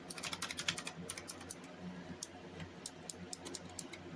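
Rapid clicky keystrokes typed on a Razer Huntsman Mini 60% gaming keyboard with clicky switches, a steady irregular patter of sharp light clicks, close and fairly quiet, with no voices.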